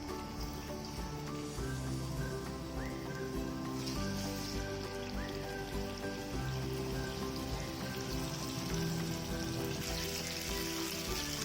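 Marinated fish laid skin-down in a hot pan sizzles steadily, a continuous crackling fry heard up close and alone, with soft background music running underneath.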